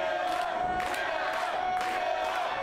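A rowdy wrestling crowd roars and cheers at a showcase event, a continuous wash of voices with several surging swells and shouts, heard at a moderate distance.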